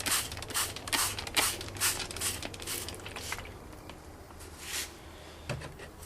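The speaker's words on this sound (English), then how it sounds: "Now I'm gonna spray it down with distilled water." Repeated hissing spray bursts of distilled water rinsing silver, some short and some longer, fire in an irregular rhythm, close by, with quieter gaps between them.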